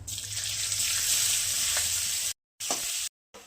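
Onion dropped into hot oil and frying for a milk prawn curry, a loud, close, bright sizzle that runs steadily and then breaks off twice in abrupt silent gaps, with no voices.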